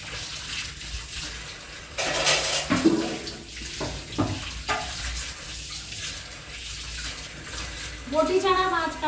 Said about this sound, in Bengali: সকালে চায়ের বাসন আছে সব এখন আমি মেজে নিই।